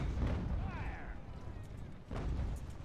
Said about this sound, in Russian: откуда-то еще артиллерия по нам работает